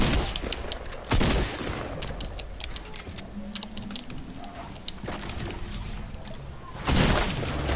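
AK assault rifle fire in a video game, bursts of sharp shots scattered through a busy mix of clicks and game noise, with louder blasts near the start and end.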